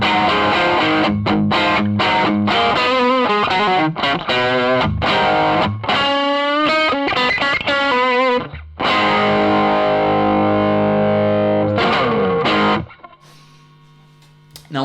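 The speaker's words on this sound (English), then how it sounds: "With the gain really cranked up, we should hear the diodes really caving in" Electric guitar through an Aion Refractor Klon-clone overdrive pedal with the gain cranked: fast distorted riffs and bent notes, then a long ringing chord and a quiet tail, loud and close.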